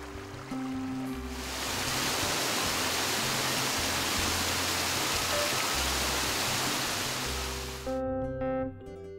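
Spring water gushes steadily out of a cave at the source of the Vinalopó river, a dense, continuous rushing wash that swells in after a quiet start and drops away near the end.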